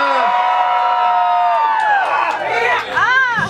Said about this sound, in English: Scream, everyone scream.